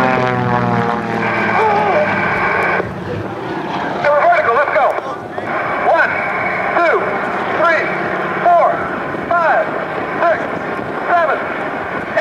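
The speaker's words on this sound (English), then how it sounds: "Frank Ryder and the Oreck Cyclone, falling back through his own smoke" A propeller-driven Oreck Cyclone aerobatic plane roars at an airshow, its engine note rising and falling repeatedly as it maneuvers, loud and fairly close with wind noise.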